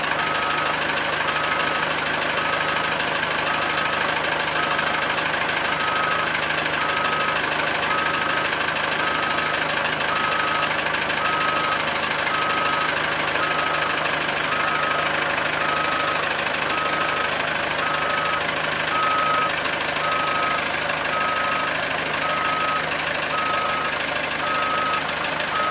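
A truck backs up slowly, its reversing alarm beeping at an even, unbroken pace for nearly half a minute over a constant low engine rumble, heard from nearby without any voices.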